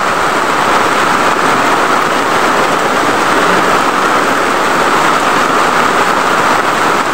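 Steady, dense heavy rain pours continuously, a loud unbroken hiss with no pauses.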